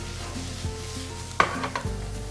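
Diced leeks and shallots sweat in butter in a pan, giving a soft steady sizzle broken by a couple of sharp utensil clicks and scrapes partway through, with no talking.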